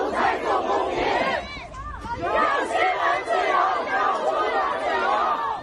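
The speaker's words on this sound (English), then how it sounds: "And in China's capital, Beijing, crowds gathered to demand freedom." A crowd of protesters in Beijing shouts and chants demands for freedom, a dense roar of many raised voices sustained throughout without a break.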